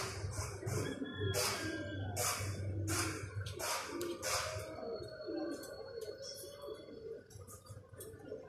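Soft pigeon coos and fluttery bird sounds amid steady background noise, with occasional sharp chirps and bursts, close by.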